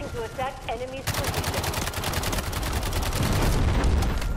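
Bombing explosions and gunfire in the Delta Force Hawk Ops video game: dense, rapid automatic bursts roar continuously and grow heavier toward the end, after a brief voice at the start.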